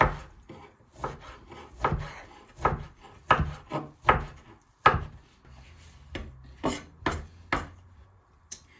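A knife chops through vegetables on a wooden board for a hash-brown breakfast casserole, giving a series of close, distinct thuds at an uneven, steady pace.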